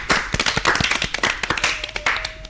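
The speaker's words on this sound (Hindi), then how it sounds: "इनके लिए तालियां तो बनती हैं।" Scattered, uneven hand claps from a small audience at a children's Balsangh programme by Sanskar Academy students for Doordarshan, a brief ragged burst with a faint tone near the end.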